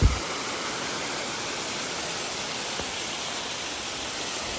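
Steady, loud rushing of creek water on the Appalachian Trail flows continuously over rocks, a constant broadband roar close by with no voices.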